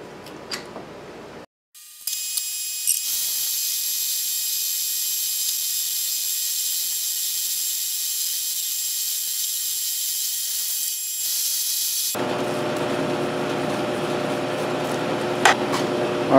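A lathe with a ball turning attachment cuts a ball in a workshop, giving a long, steady high-pitched hiss and whine of the cut with a few small clicks, then a shift to a duller machine hum.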